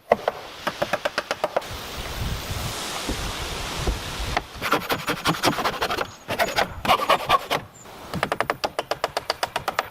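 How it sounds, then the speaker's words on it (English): A hammer drives nails into wooden planks on roof rafters of a mountain cabin, with bursts of rapid, sharp knocks separated by pauses and outdoor wind noise between strikes. "Nailing wooden planks onto the roof rafters to create a solid base for the roof layer."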